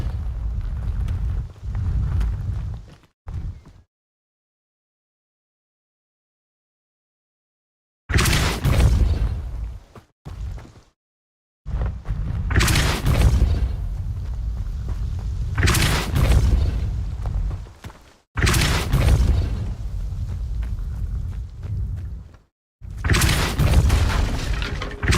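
Repeated Depulso force-spell blasts in Hogwarts Legacy, a series of loud booming bursts with shattering crashes, each lasting a few seconds and separated by short gaps and one long silence.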